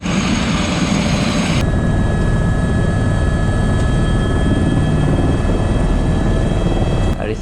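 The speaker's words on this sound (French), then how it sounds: "c'est parti pour le petit tour en hélicoptère" A helicopter in flight from Nice airport to Monaco, heard from inside the cabin as a loud, steady rotor and turbine roar with a constant high whine, unbroken throughout.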